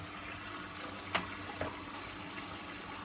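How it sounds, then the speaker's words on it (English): Washing machine drawing in water at the start of its main wash, a faint steady hiss of inflowing water with a couple of soft clicks or knocks. "Now it's on the main wash, so it'll draw in some water."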